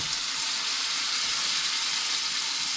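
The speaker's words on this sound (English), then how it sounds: "It started to sizzle right away." Steady bright crackling sizzle of a crappie fish fillet frying in hot oil, close and continuous with no voices.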